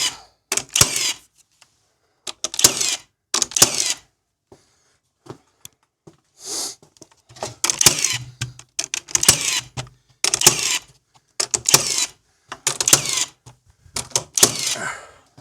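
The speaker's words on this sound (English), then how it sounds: "Nail all those." Nailing boards while building a barn gate: a series of sharp, close hammer strikes in short clustered bursts with brief pauses between, repeated across the whole stretch.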